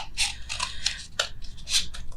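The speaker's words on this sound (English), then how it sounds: "So we're going to take our scissors. See, we're going to cut." Scissors snip through craft material for isopod rolls in a quick series of crisp, close cuts, with no talking.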